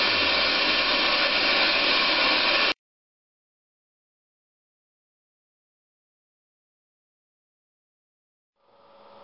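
A vacuum cleaner runs with a loud, steady whooshing roar, then switches off abruptly, leaving silence until a faint sound creeps back in at the very end.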